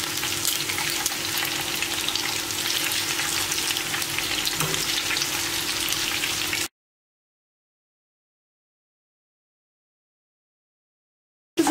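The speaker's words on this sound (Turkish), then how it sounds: "Yağım ısındıktan sonra şöyle karnabaharları koyuyorum. Ters düz çevire çevire kızartacağım." Steady, loud sizzling and crackling of cauliflower frying in hot oil, continuous for several seconds, then silence before a brief return of sizzle.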